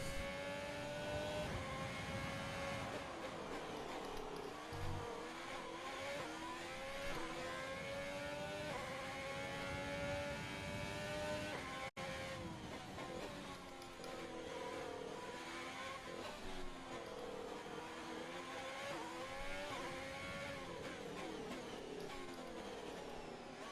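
A race car engine revs through a Monaco Grand Prix lap in a racing video game, loud and continuous, with rising and falling pitch sweeps as the car accelerates and shifts through corners.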